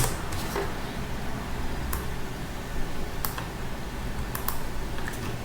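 Sparse computer keyboard key presses, including Enter, while working through a dynamic programming exercise, with a few sharp separate clicks over a steady background hum. No one speaks.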